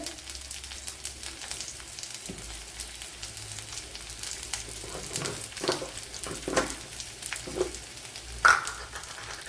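A large sliced onion frying in a pan for a Kerala green gram curry gives a steady soft sizzle with occasional crackles and stirring scrapes, close and moderately quiet, with no talking.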